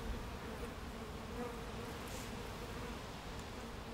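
Honey bees on a hive frame, mid-inspection, with honey and pollen stored in the cells, hum in a dense continuous drone, close and steady with no voices.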